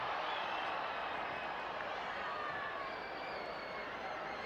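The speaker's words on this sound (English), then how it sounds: "Big crowd hanging around tonight." Large baseball crowd at Fenway Park during a Red Sox game against the Twins, a steady broad murmur of many voices filling the ballpark, continuous and fairly distant with no distinct cheers or claps.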